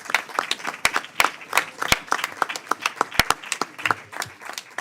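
A committee hearing room breaks into light, scattered clapping for two members, with sharp individual claps coming unevenly in a sparse round of applause.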